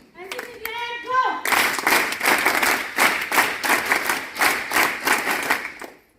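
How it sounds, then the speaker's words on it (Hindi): Loud applause from an audience at an NCC camp celebration, a dense burst of many hands clapping in a steady rhythmic beat that follows a brief spoken voice and carries on for several seconds. "दोनों के लिए जोरदार ताली एक बार फिर चाहूंगी।"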